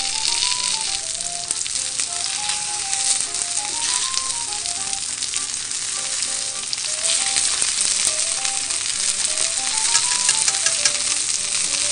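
Eggplant rolls wrapped in pork belly with shiso leaves sizzle loudly and steadily in a frying pan, a close, dense crackle that never stops, with a light musical melody playing underneath.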